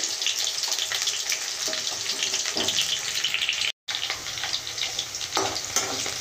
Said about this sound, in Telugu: ఉల్లిపాయ ముక్కలండి ఇలా కట్ చేసుకొని వేసుకోండి. ఇవి కొద్దిగా మగ్గనియాలండి.